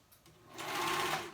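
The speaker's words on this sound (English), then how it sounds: "So we're going to go ahead and sew it onto the bodice." A sewing machine stitches a sleeve onto the bodice of a cold-shoulder romper or dress, its motor whirring up after a brief soft start and then running steadily and close by, with no talking.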